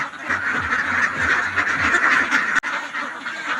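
Domestic ducks quacking steadily and close by, a dense run of overlapping calls with a brief sharp drop near the end and no talking.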